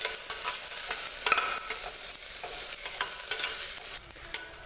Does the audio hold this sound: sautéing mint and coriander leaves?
yes